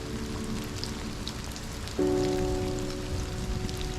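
Rain falls outdoors onto a nature journal's paper, a steady fine patter close by; partway through, a sustained tonal hum joins the soft drumming of drops.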